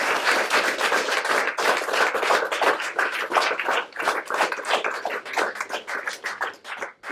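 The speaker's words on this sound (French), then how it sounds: "Vous pouvez applaudir, c'est plutôt bien," An audience claps steadily and fairly close, with individual hand claps distinct within a dense, continuous round of applause.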